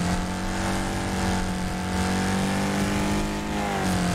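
A race car engine in the video game Wreckfest, a sustained steady drone with slight pitch shifts as it holds speed through a race, continuous and fairly close, with no talk.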